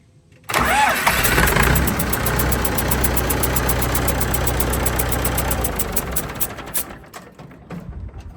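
A Massey Ferguson 180 diesel tractor engine, just bled of air in its fuel system, cranks briefly and fires into a loud, steady diesel idle up close, settling and fading slightly toward the end.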